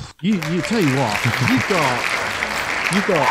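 An applause sound effect on a podcast, a steady wash of clapping beneath lively, close-up speech from someone talking over it.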